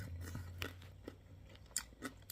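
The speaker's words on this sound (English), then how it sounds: "Listen to that crunch." Close, crisp crunching as homemade pork skins (chicharrones) are bitten and chewed, a few sharp crackles spaced out over quiet.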